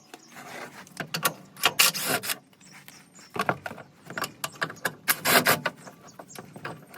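A wrench works on four 15mm bolts holding a frame guard on a vehicle, giving close, irregular bursts of ratcheting, clinking and scraping metal with short pauses between, no voices.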